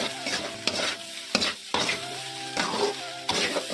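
Chinese egg rice is stirred and tossed with sauces in a hot pan, producing sizzling broken by rhythmic scraping strokes at about one per second, close and fairly loud.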